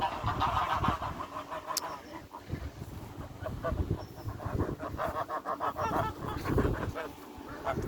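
Geese in an autumn vegetable garden honk repeatedly at close range, a busy overlapping chorus of nasal calls, with a few faint sounds of a person nearby.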